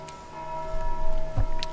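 A bell tolls in Dark Souls II: Scholar of the First Sin, a sustained metallic ring with steady humming overtones that lingers faintly throughout, with a soft knock near the end.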